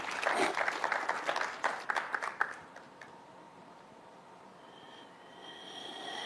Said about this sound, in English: We appreciate that you applaud yourselves.